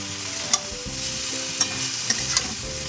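Fried potatoes and cauliflower are stir-fried with ground spices in a pan, giving a steady nearby sizzle. Four sharp spatula clicks against the pan stand out over a faint musical backdrop.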